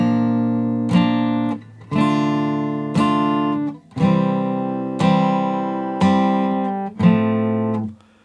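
Guitar plays the opening two verse bars of a song (Arcane Season 2), eight evenly spaced strummed chords, each ringing about a second, loud and clear with no voice over them.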